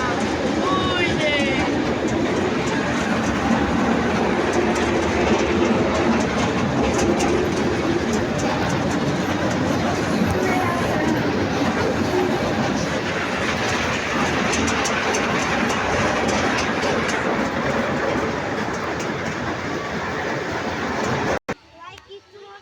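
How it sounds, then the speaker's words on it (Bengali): A train rolling on rails heard from inside a carriage, a steady loud rumble and rattle throughout with voices talking over it, cutting off abruptly near the end. "আমি এখন বসে আছি ট্রেনে"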